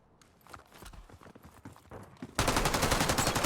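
Gunfire in Call of Duty Warzone, quiet rapid shots and footsteps at first, then a sudden loud, sustained burst of automatic fire that continues to the end.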